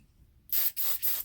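Three short hissing bursts of an aerosol oil spray into the cylinder of a Ruger Wrangler revolver, close up, separated by brief pauses, with no talking.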